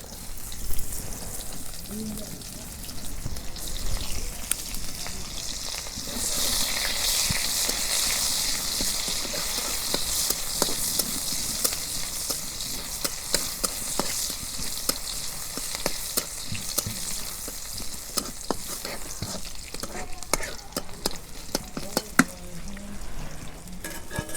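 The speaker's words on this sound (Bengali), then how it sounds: "এখন আমি তরকারি রান্না করবো নিকে তেল দিয়ে দিই। পেঁয়াজ কুচি দিয়ে দিলাম।" Chopped onions sizzle in hot oil for a fish curry. The frying hiss is steady and close, with occasional clicks and scrapes of stirring, and some quiet background sounds.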